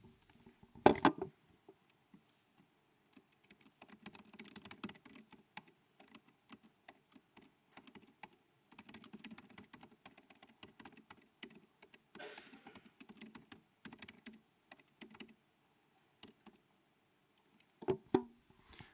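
Someone types on a computer keyboard while writing code, with quick irregular bursts of clicking keystrokes close by, separated by short pauses and a couple of louder key strikes near the start and end.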